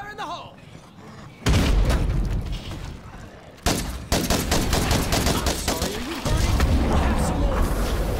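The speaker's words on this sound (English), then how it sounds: "Fire in the hole!" A loud explosion bursts twice in the State of Decay 2 video game, each blast starting abruptly with a broad rumbling roar that lingers, followed by crackling debris and gunfire-like rattles, close and dense.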